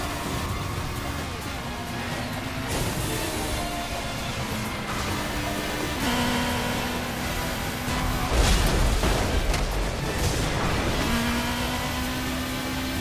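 In the racing video game Burnout Paradise, car engines roar continuously and loudly throughout, their pitch rising and shifting as the car accelerates through a race.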